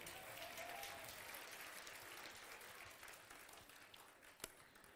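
A crowd claps steadily in a continuous wash of applause at a large Hindu religious gathering, somewhat distant and even, with one sharper clap near the end.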